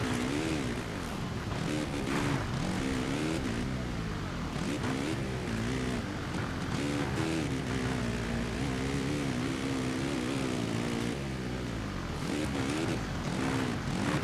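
A motocross bike engine in the video game MXGP on PlayStation 5 Pro drones continuously and loudly, its pitch rising and falling as the bike revs through gear changes without any talk.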